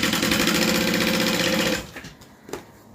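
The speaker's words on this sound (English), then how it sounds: "So I'm just gonna sew that on." Sewing machine stitching accent pieces onto a bag gusset, a loud steady rapid whir for about two seconds that then stops, leaving faint handling clicks.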